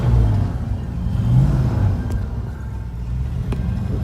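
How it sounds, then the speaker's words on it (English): A Mercury Cougar XR7 convertible's engine idles low and rumbling, rising briefly in a rev before settling back to a steady hum, with no voices. "Rev it a little bit."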